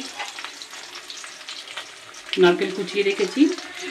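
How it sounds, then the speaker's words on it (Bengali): Pumpkin pieces fry in a pan in a home kitchen, a soft steady sizzle that swells louder midway as the pieces are stirred, close by with no talking. "এবার কুমড়ো ভাজা হবে"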